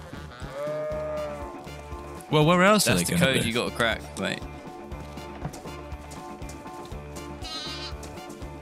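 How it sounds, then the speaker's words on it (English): A sheep in the video game DayZ gives a loud, wavering bleat in a barn, heard briefly over background game music while players talk. "There's another sheep in the barn!"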